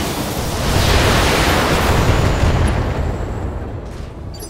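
A mech's weapons firing in the BattleTech video game: a loud, broad roaring blast that swells, holds for a few seconds and then fades away.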